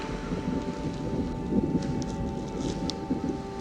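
Light rain sprinkles steadily outdoors near a moonlit lake, a soft continuous patter with a faint wind-like hiss and a low steady hum, fairly even in level throughout with no voices.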